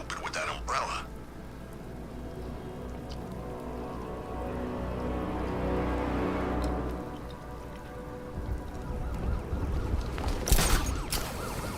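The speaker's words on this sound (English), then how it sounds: "What's with all the rain?" Steady rain pours in the Batman Arkham Knight video game, a dense hiss of falling water throughout, with brief sharper noises near the start and end.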